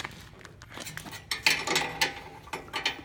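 Wrenches tighten bolts during a harness install: a series of close, sharp metallic clicks and ratcheting ticks, irregular and growing more frequent toward the end.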